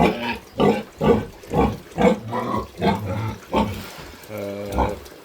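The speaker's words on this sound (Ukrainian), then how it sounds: "Це у нас два пороси, сона молода сона матка." Sows in a farm pen grunt at feeding time, a close series of about eight rhythmic, throaty oinks spaced roughly half a second apart, ending in a longer, more drawn-out grunt.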